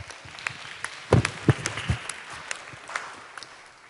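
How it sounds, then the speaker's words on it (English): Applause from a modest audience at a Black History program, scattered claps of varying loudness with a few sharper nearby claps, fairly faint and spread out across the room. "Round of applause."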